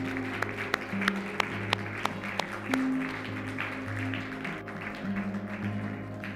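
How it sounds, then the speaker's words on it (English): An audience at an art event claps with a few sharp, distinct claps over a low, steady hum, a thin scattered applause of moderate loudness. "a big applause for John Duffy."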